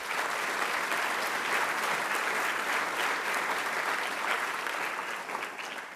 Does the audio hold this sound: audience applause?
yes